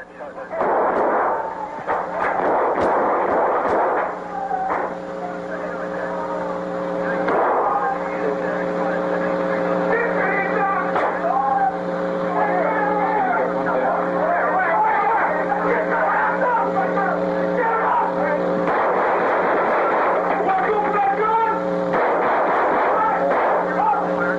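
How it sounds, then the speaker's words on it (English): Gunfire erupts in a shootout between a SWAT team and four gang members at a store, with bursts of shots amid a dense, loud, chaotic din of sirens or engines and voices. "A gunfight erupts with the 4 gang members."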